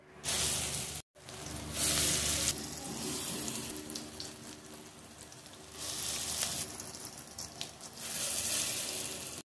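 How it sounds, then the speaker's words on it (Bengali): Lentil fritters (dal bora) fry in hot oil with a steady, broadband sizzle that runs almost unbroken for the whole stretch, swelling louder in several bursts, with a brief cut near the start. "এইভাবে বাকি বড়াগুলো ভেজে নেব।"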